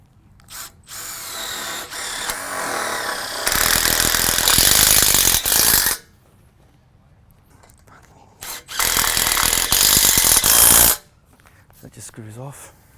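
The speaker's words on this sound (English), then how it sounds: "and then we just screw that off." A power drill drives a screw out during ShedFast plastic shed assembly. Two loud, close bursts of whirring motor noise, each lasting a couple of seconds, come between quieter handling sounds.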